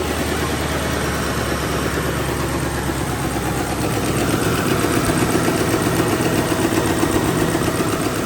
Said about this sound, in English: Definitely has an exhaust leak somewhere.